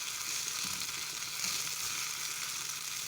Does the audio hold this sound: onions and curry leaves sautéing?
yes